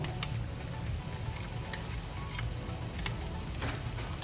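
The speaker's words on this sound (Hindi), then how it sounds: "हम सारी वेजिटेबल्स को फ्राई कर लेंगे" Carrots and green onion with other vegetables frying in a pan, a steady soft sizzle with faint crackles and occasional light stirring clicks throughout, no talking.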